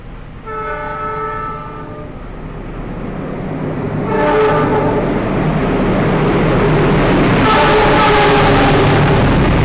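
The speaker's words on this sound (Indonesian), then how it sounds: "penyusulan kedua oleh kereta api Argo Semeru" The Argo Semeru express train passing close and loud, its horn sounding in several long blasts over a steady, growing rumble of wheels and carriages, with no talk.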